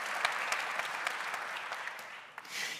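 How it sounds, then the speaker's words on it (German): Audience applause at an open innovation congress in Baden-Württemberg, a steady wash of many hands clapping with scattered sharper claps, moderately loud and continuous throughout. "Ein Applaus für Herrn Dr. Tremmel, dass er mit dabei ist."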